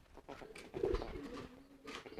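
Racing pigeons from a Jaguar loft coo in soft, low rounded calls, one fuller coo swelling near the middle, heard close over faint background noise.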